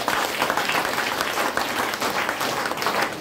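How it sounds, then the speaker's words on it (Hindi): An audience in a talk or seminar bursts into dense, sustained applause, a steady wash of many hands clapping at once that fills the room for several seconds with no speech over it. "ताली बजी, जो बोलेगा उसको ताली बजी"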